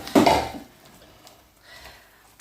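A spoon stirs lamb and sauce in a pan for jardaloo ma gosht, an apricot lamb dish: one short, close scraping clatter against the pan, then near quiet.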